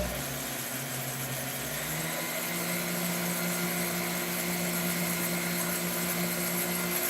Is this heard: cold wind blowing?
no